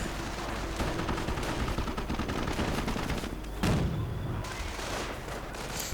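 A World War II strategy game battle with Shermans and Panzergrenadiers: continuous rattling small-arms and machine-gun fire with overlapping shots and occasional heavier bursts, dense and loud throughout, no talking.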